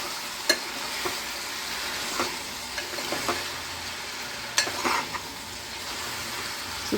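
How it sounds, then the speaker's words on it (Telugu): Country chicken curry being stirred in a pan gives a soft sizzle with scattered spoon clicks and scrapes against the metal at irregular intervals, close by and with no voices. "ఇలా కలుపుతూ ఉండాలి"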